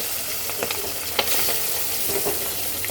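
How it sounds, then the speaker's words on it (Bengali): Pabda fish fry in hot oil in a kadai, a dense, even hiss of sizzling with a few light clicks and one sharper knock, heard close up and without any voices. "এখন আমি মাছগুলো খুব সুন্দর করে ভেজে নেব"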